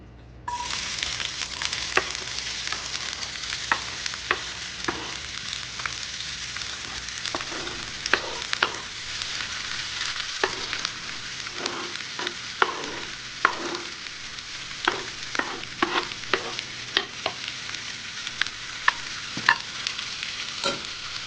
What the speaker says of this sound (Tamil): எண்ணெய் காஞ்சி வெட்டி வச்ச வெங்காயத்தை போடுறோம்